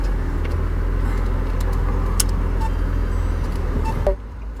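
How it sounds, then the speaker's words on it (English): Steady road traffic rumbles close by, a continuous low engine drone with passing cars, then abruptly drops away near the end. "there's traffic"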